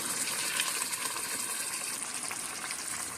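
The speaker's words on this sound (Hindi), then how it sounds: "हम बिस्मिल्लाहिर्रहमानिर्रहीम पढ़कर इसमें दाल ऐड करेंगे" Soaked moong dal tipped into a pot for achari moong dal, producing a steady, loud gushing sizzle that hisses evenly for about three seconds with no talking.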